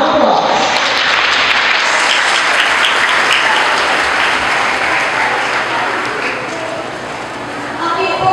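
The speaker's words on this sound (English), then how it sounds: "Let's give him a round of applause" A large audience at a graduation ceremony gives loud, sustained applause for the class salutatorian, a thick roar of clapping that swells at the start and stays strong throughout.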